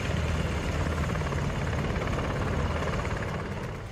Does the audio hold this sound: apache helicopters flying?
yes